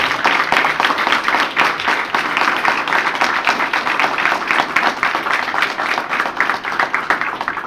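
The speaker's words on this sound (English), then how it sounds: "So can we give Titan Athletics a big round of applause?" Loud, close applause from a school athletics gathering, many hands clapping in a dense, slightly uneven rhythm that stays strong throughout with some sharp individual claps standing out.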